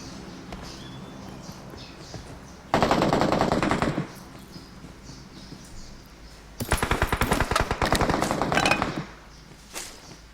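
Two long bursts of rapid automatic gunfire in a video game, sharp and loud, separated by a quieter stretch of background noise.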